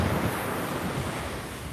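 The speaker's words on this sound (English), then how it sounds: "It's getting more windy, the tide is up." Strong wind roars across the microphone over a steady wash of surf at Laguna Beach with the tide up, a continuous loud blustery rush with no pauses.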